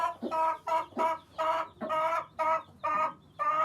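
A hen clucks repeatedly in a steady rhythm of about seven loud, close calls with short pauses between them, while brooding Indian chicken chicks.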